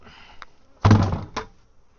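A single hollow thunk of a bucket being kicked beside beehives, followed by a smaller knock a moment later, fairly close and otherwise quiet.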